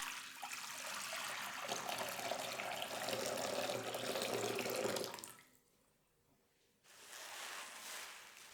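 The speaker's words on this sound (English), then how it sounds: "I first started to wash the wild garlic. Plain water is enough to clean it." Wild garlic leaves being rinsed in plain water, a steady loud rush of running water for about five seconds, then a near-silent pause before softer splashing and trickling resumes.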